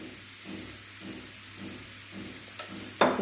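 Washed mushrooms hitting a hot pan for a pepper roast: a steady soft sizzle and hiss with faint periodic stirring scrapes, then a sudden louder burst of crackling at the end, with no talking.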